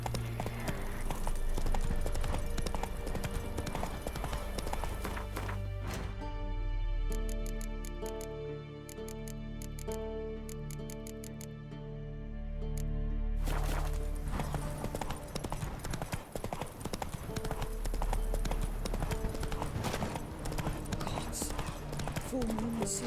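Horse hooves clip-clopping in a steady trotting rhythm from Roach, Geralt's horse in The Witcher 3 video game, continuous throughout under game music, with a brief spoken line.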